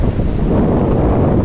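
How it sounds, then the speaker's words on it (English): Steady, loud wind buffeting the microphone on the west shore near Llandudno in North Wales on an autumn morning, a continuous low rumble with breezy hiss and possible surf underneath, no voices. "A bit of a windy start this morning."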